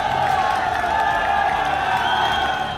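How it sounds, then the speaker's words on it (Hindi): A street crowd at a police procession claps and cheers continuously, a dense, loud wash of applause with mixed voices throughout. "भीड़ ताली बजा रही है"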